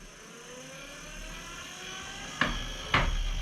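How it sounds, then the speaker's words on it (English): A car with heavy wheels and tires accelerates, a faint engine whine rising in pitch from a distance, broken near the end by two sharp knocks or bumps. "This is your car's acceleration being slowed down by heavy wheels and tires."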